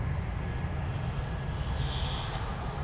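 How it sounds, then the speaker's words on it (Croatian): An airplane passes overhead, heard as a steady, fairly distant broadband engine drone that holds at an even level for about three seconds with no voices. "opet neki avion ide."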